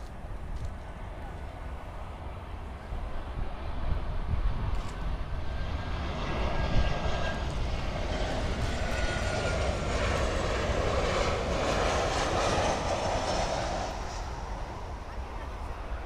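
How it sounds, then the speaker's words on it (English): An American Airlines Boeing 737-800 jet arrives at Miami airport, its engines a steady, broad roar that swells slightly midway and holds, fairly distant, with no talking in the clip. "Next inbound here is American Airlines 737-800 from San Salvador."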